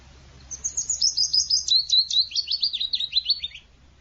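A migratory bird returning to Ireland in April sings one clear, rapid, descending trill of high chirps lasting about three seconds, close and alone over faint low hum.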